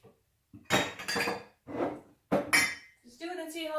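Dishes, pots and cutlery clatter and clink in bursts while being put away in a home kitchen, several close, loud handling sounds separated by brief pauses.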